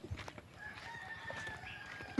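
Native Filipino darag chickens in a backyard flock, a rooster crowing once alongside scattered clucks and soft hen calls, fairly near and moderately loud against a steady rural background.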